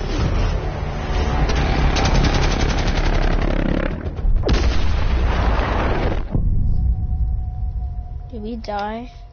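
Tank gunfire in a video game rolls out as loud, dense blasts and rumbling bursts that fill most of the stretch, then thin out as a voice talks near the end.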